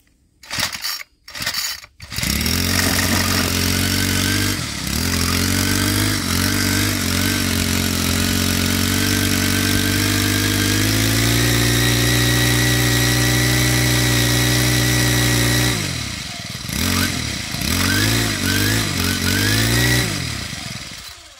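Craftsman WS4200 gas string trimmer engine catches after a few short sputtering pulls, runs loud and steady at a fast idle for about thirteen seconds, then dies away and stutters briefly.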